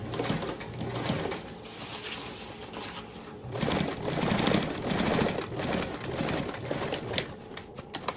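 A sewing machine stitches the lining of a tote bag, rapid mechanical chattering in uneven bursts with short pauses, fairly close and moderately loud, with no one talking.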